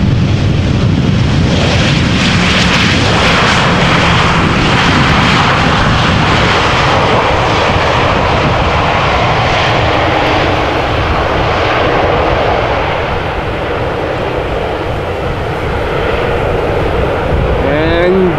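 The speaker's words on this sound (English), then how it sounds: "And an EasyJet A320 arriving from Edinburgh." An EasyJet Airbus A320 jet arrives at Amsterdam Schiphol Airport with a loud, sustained roar of engines and rushing air that swells and slowly fades, heard from a nearby outdoor spot.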